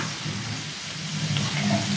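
Spices sizzling and frying in a pan while being stirred and mixed, a steady close crackle with soft scraping, no voices.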